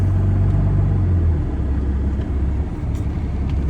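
A truck rumbles along at close range while driving down to the outbound section of a yard, with a steady low engine drone and a lower hum setting in partway through, and no voices.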